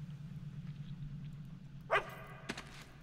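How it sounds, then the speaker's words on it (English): A dog barks in the video game Fable 2, two short separate barks about half a second apart, fairly clear over a steady low game hum in a creepy area. "It's okay, dog."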